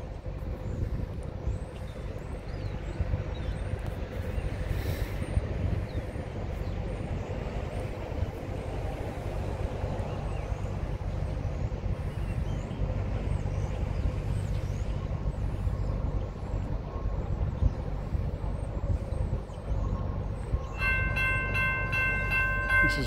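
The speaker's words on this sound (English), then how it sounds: "This is probably the 515 Amtrak coming through" Amtrak train 515 passing through Flint's Crossing in Canaan, New York, a long continuous rumble of wheels and rail cars heard from trackside, with faint horn or crossing-bell tones near the end and no talking.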